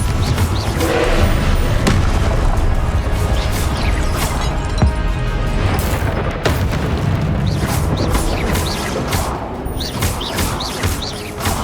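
Fiery Confringo spell blasts from the video game Hogwarts Legacy go off in a dense, continuous barrage of loud booms and crashes, with faint bird chirps in the background.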